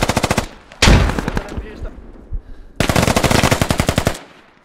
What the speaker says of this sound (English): somebody up there with an MG just starts fucking spraying